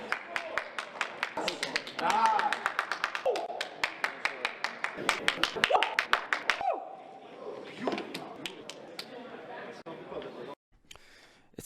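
Rapid, sharp claps or taps in a quick series over a crowd's murmur and voices, thinning out toward the end.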